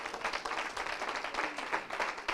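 A church congregation claps steadily in a sustained round of applause, dense and continuous, with no voices rising above it.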